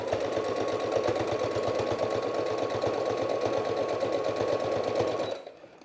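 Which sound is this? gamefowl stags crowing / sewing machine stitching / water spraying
sewing machine stitching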